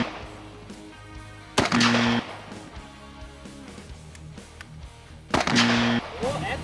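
Two loud, sharp shots from a Smith & Wesson .50 caliber Magnum revolver crack out several seconds apart, each with a brief ringing decay, and people talk quietly between them.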